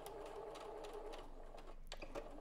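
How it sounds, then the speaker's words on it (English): Sewing machine stitching forward along bra strap elastic at the pico-edged top of a back band, a steady close, continuous mechanical whir throughout. "Then you're going to sew forwards,"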